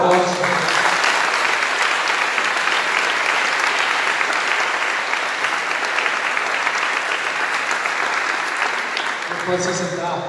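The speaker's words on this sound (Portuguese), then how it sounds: "Aleluia, aplauda forte." A church congregation applauds loudly and continuously for about ten seconds, dense clapping filling the room, with brief voices at the start and end.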